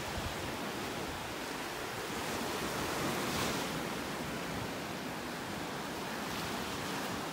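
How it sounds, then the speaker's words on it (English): Ocean waves break and wash steadily onto a Gulf beach at Delnor-Wiggins in North Naples, Florida, forming a continuous loud surf roar with a slight swell near the middle, with no voices over it. "Look at those waves."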